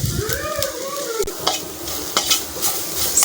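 Noodle masala with chili powder and salt being stirred in a pan, a close, steady scraping swirl with light sizzling running throughout, no voices.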